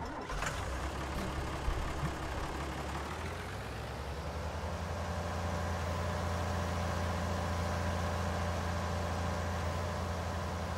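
Tractor engine idling in Farming Simulator 19, a steady, low rumbling drone with a constant hum, continuous and fairly loud throughout with no talk.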